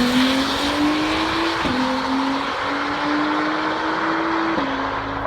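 A 2017 Acura NSX hybrid accelerates down the Milan Dragway quarter mile, its engine note climbing steadily through gears with brief drops at each shift, loud and close from inside the cabin.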